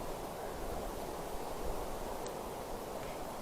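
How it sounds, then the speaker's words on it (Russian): A mountain river in Altai in May rushes with a broad, steady roar of water, continuous and fairly loud with no letup across a few seconds. "Как река шумит."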